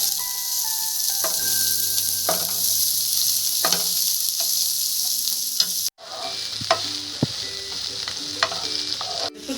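Chopped onion frying in a pan for a village-style onion chutney, a loud continuous sizzle with occasional spoon scrapes and a brief drop midway before the frying resumes, no speech.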